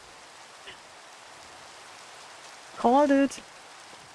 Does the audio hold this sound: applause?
no